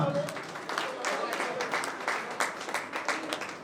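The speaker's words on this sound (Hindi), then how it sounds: "ऐसे बच्चे के लिए जोरदार तालियां" A crowd at a Maharaja Agrasen Jayanti gathering claps loudly for Shubh Agarwal, a continuous spatter of many hands that runs the whole stretch, with voices talking faintly underneath.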